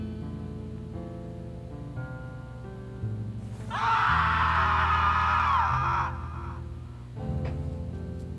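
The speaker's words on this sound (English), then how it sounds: "It's weird to hear like a voice come out of them, even if it's just like a scream." A long, harsh scream from a creature in the horror video game Sally Face, lasting about two seconds and rising loud above the game's low, droning background music, then cutting off.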